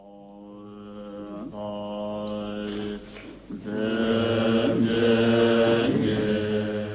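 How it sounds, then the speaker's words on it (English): Buddhist monks chanting an invocation of Tara in Sri Lanka, a deep droning group of voices that swells louder partway through and holds a steady, resonant sustain. "That's the sound of Buddhist monks chanting."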